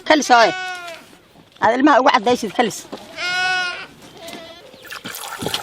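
Goats in a dry-season herding setting give several close, wavering bleats one after another, with brief gaps and a soft rustle between calls.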